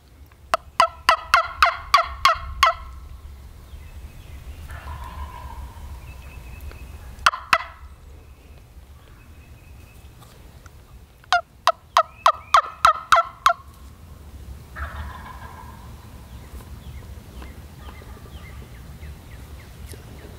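A wild turkey gobbles twice in loud rapid rattling bursts, with fainter calls in between, distant and outdoors in hardwood hill country at sunrise against quiet background noise.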